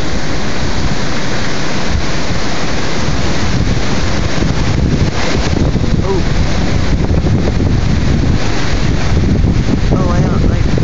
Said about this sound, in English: that roar you hear, that's the wind in the trees